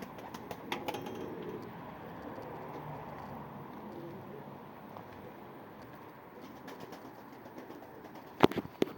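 Soft pigeon cooing in a steady low murmur, with faint rustling and a few sharp clicks near the end.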